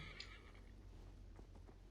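In Assassin's Creed Valhalla, a summoned horse named Dullahan gives a short, faint whinny at the start, followed by a few soft hoof clops over a low steady background, with no talk.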